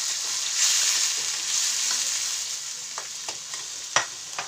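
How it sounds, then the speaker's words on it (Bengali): Finely chopped onions frying in a pan, a constant close sizzle with a few sharp spatula clicks and stirring scrapes near the end, moderately quiet and without speech. "আগে পেঁয়াজগুলো ছোট করে ছোট করে পেঁয়াজগুলো ভেজে"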